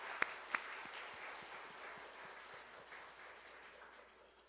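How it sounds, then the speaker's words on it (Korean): Congregation applauding during a New Year's Eve church service, a few sharp close claps at the start followed by quieter, thinning scattered clapping that fades out toward the end. "하나님께 영광의 박수 드리겠습니다"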